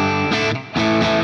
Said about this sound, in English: So here's the reverb.